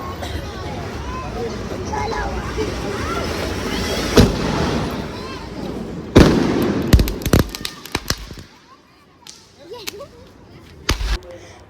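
Diwali firecrackers and rocket fireworks at a first Diwali celebration in a new home in Maharashtra: sharp cracks and bursts, one around four seconds and a dense cluster of bangs from six to nine seconds, over crowd hubbub, then quieter scattered pops.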